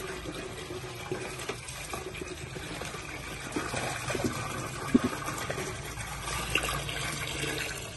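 Water runs steadily into a 20-liter jug as a batch of homemade bleach is mixed, giving a continuous splashing fill sound with a few sharper splashes and no talk.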